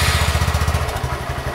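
A 2018 Honda Grom motorcycle with its stock exhaust runs in a garage, its engine thumping in a fast, steady, loud idle rhythm with no voices.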